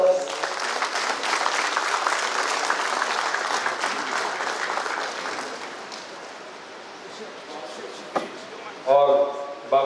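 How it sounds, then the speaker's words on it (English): An indoor audience at a university regional workshop gives a warm round of applause welcoming the Vice Chancellor, steady clapping that fades toward the end, followed by a few knocks and a voice starting to speak. "with a warm round of applause"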